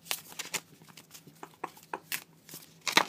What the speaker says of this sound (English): And they shuffle pretty well.